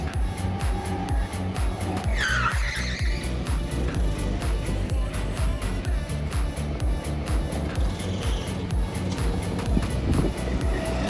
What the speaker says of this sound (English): These go-karts are so powerful you can hear them sliding on the curves.